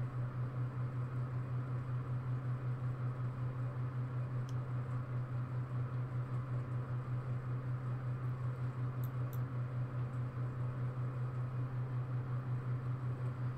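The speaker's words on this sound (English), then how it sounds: "apologies if you can hear the computer fan in the background" A computer fan hums steadily in the background, a constant low drone with a soft airy hiss and no other sounds over it.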